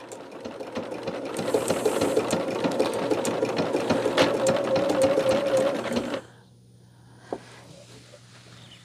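A sewing machine stitches quilt fabric in a fast, steady whirring hum with rhythmic needle ticking for about six seconds, then stops abruptly, followed by quiet and a single click.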